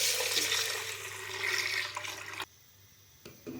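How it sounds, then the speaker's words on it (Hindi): Water running and splashing into a cooking pot holding 300 grams of barley porridge, as 2 litres are added for talbina; a steady close pour for about two and a half seconds, then it stops abruptly with a brief trickle near the end. "सबसे पहले हम बर्तन में डालेंगे 300 ग्राम जौ का दलिया और इसमें डाल देंगे 2 लीटर पानी"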